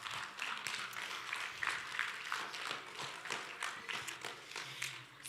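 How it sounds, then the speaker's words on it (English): Sparse, quiet clapping from students at a capstone general session, scattered individual claps at a distance with a thin, uneven rhythm and a sharp knock at the very end. "Students, give yourselves a round of applause"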